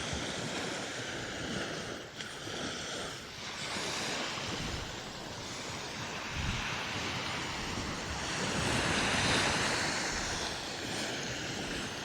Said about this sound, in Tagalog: Mas kalmado ang dagat ngayon compared kahapon.